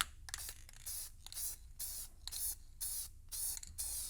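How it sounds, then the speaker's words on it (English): Primer spray paint hisses from an aerosol can onto a car body in repeated short bursts, about eight close, crisp sprays separated by brief pauses. "I'm just gonna hit it with some spray paint"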